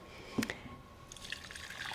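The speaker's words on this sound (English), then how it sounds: "So I'm going to pour the rest of this broth over a sieve," Turkey broth from an Instant Pot is poured through a sieve into a bowl, giving faint, soft trickling and dripping.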